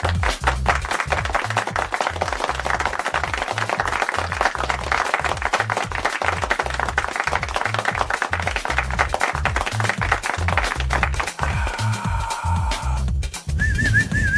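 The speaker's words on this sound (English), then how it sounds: "Cue applause." Steady crowd applause with clapping and whistles, loud and continuous, over a pulsing electronic dance beat, with a brief electronic tone near the end and no talk.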